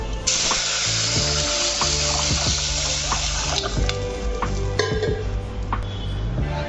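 Water is poured into a hot pan of roasted cloves, black peppercorns and cinnamon, making a loud continuous hiss and splash with a few sharp clinks and bubbling sizzles.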